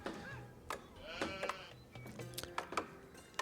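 Several sheep bleat in an Age of Empires IV match on a dry Arabia map, the wavering calls repeating in short bursts over faint game ambience and clicks.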